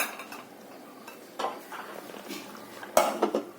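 Pan of okra being covered with a lid, a few soft metallic clinks and knocks, close and quiet, with a sharper clatter near the end and no talk.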